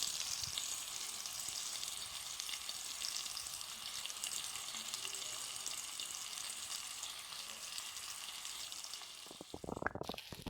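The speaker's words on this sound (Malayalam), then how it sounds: "ചെമ്മീൻ ഒരു സൈഡ് നന്നായി ഫ്രൈ ആയി വന്നു കഴിഞ്ഞാൽ നമുക്ക് മറ്റേ സൈഡും തിരിച്ചിട്ട് കൊടുത്ത് വീണ്ടും നന്നായി ഫ്രൈ ചെയ്തെടുക്കാം" Prawns frying in a pan with raw green black pepper, a steady, close hiss of hot oil sizzling without a break, ending in a brief clatter as the prawns are moved.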